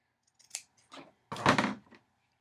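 Scissors snip through material in a few quick, close cuts, with the last cut longest and loudest, in an otherwise quiet room.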